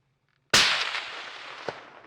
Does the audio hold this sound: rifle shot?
yes